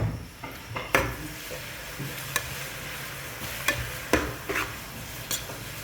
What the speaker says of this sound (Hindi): अब हम इसमें अदरक लहसुन हरी मिर्चें जो हमने चॉप किए है वो इसमें ऐड कर देंगे और अच्छी तरीके से मिक्स कर देंगे।